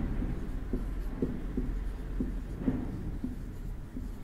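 Pen or marker writing out a maths solution for an LCM problem in a classroom: soft, scattered strokes and taps close by over a low background hum, no talking.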